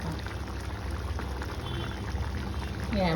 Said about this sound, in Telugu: కొంచెం వాటర్ పోయాలి